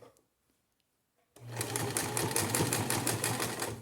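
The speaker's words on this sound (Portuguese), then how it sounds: "Então, troquei ali na máquina, né, gente? A cor da minha linha, óbvio, né? Agora eu vou costurar com ela no marrom." A sewing machine stitches a fabric-scales dish towel with brown top thread and white bobbin thread. It runs quietly at first, then starts at about a third of the way in as a loud, close, steady rapid whir that continues to the end.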